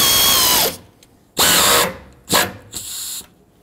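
A power driver tightening radiator cooler mounting bolts on a 2008–2010 Ford F-250, several short close whirring bursts separated by pauses, the first one winding down in pitch.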